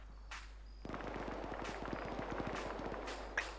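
Rapid gunfire in a shooter video game, a dense burst of close automatic shots after a brief quiet start, with a few sharper single cracks at the end.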